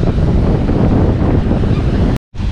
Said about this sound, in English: Very nice place here at Cocoa Beach.